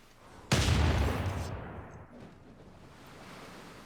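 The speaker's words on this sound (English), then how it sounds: "this bombard is not really doing a whole lot of damage that night" A Civilization 6 bombard siege unit fires: one sudden heavy boom, loud and close, decaying into a rumbling tail over a couple of seconds, alone without talk.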